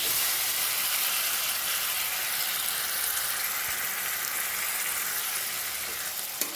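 Pointed gourd paste sizzles in a pan with grated coconut over a low flame, giving a steady, close hiss of frying with faint stirring and no talk.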